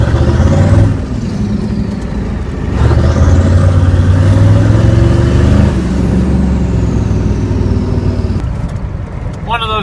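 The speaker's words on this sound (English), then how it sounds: "One of those trucks that sounds cool." A twin-turbo Ford 6.9 IDI diesel truck engine runs loud and close, revving up and easing off in repeated surges, with faint turbo whistle sweeping above the diesel rumble.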